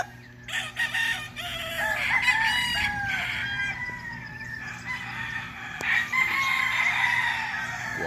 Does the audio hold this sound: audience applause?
no